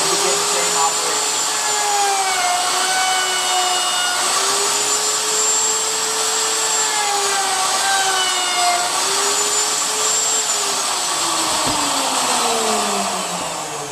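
A router on a router table cuts along a wood workpiece, its loud steady high-pitched motor whine shifting slightly in pitch as the bit bites, running continuously and close with no talk.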